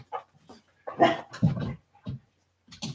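A pet dog begging for a treat gives short whimpers and breathy panting. It sounds close and comes in several brief bursts separated by pauses.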